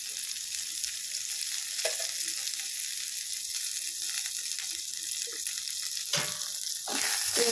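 Oil sizzles and fries steadily in a pan with corn kernels, with occasional stirring scrapes breaking through the continuous crackle, close and moderately loud with no talk.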